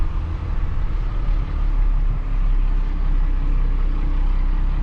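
A 12-valve Cummins diesel truck engine runs on black diesel, a deep steady rumble close by that dips briefly near the start before settling into an even, heavy drone.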